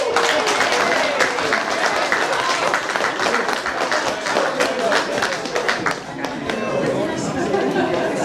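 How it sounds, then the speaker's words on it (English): Audience applause at a MECA Germany convention in Berlin, a steady dense wash of many hands clapping throughout, with some crowd chatter mixed in and a brief dip near the end. "People should clap for me"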